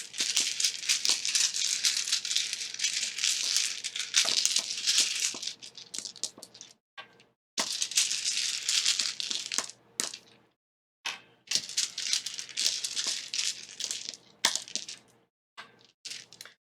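Story dice rattle and clatter as they are drawn from a bag, a dense rustling burst repeated several times with short pauses between.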